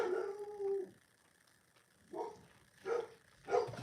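A dog gives a long howling bark, then after a pause lets out three shorter barks in quick succession, close by.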